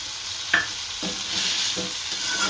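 Garlic hisses in a hot pan alongside tomatoes during roti noodle preparation, with a soft sizzle broken by a few scraping stirs and a light clink; no voices.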